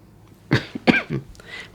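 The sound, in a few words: cough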